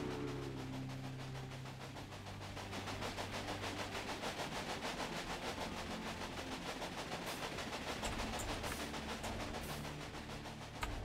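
A steam train runs along the track in the Railway Empire video game, a faint, steady rhythmic chugging and clatter that builds slightly after a low opening rumble, with no talk.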